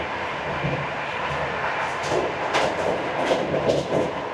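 An Uzbekistan high-speed train running between Tashkent and Bukhara, heard from inside a carriage as a steady broadband rumble with soft rhythmic clicks from the rails, no voices.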